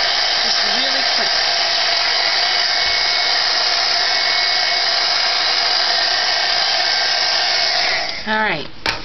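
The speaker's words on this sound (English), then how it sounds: "because this is ink and it's still kind of wet, I'm going to touch it with the heat tool real quick" A heat embossing tool blows hot air over wet ink on a paper tag, a steady, loud, close whooshing hum that runs unbroken and then cuts off near the end.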